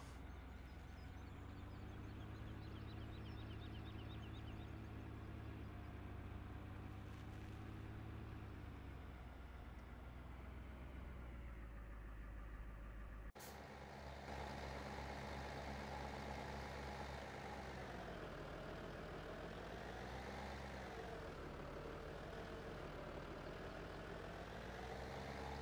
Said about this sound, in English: Oh, the tractor's stuck.